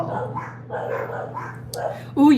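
Several dogs bark in a few short bursts at a moderate distance, blending with ongoing talk in a quiet room.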